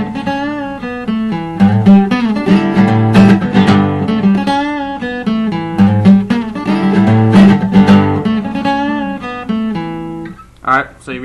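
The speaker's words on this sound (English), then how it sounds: "you've got a couple of little muted strums in there" Guitar strumming with a steady rhythmic pattern, several quick muted strums mixed among ringing chords, close and fairly loud, no talking.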